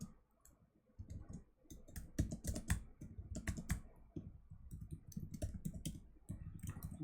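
Typing on a computer keyboard during a Python coding contest: quick, uneven bursts of close key clicks with short pauses in between, no voices.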